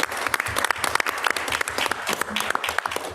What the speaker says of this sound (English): Let's give our occupational therapists a round of applause.